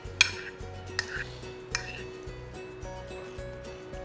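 Spoons clink and scrape against a bowl as garlic, fresh mint leaves and lemon juice are tossed together, a few sharp taps over quiet rustling, close by with background music underneath.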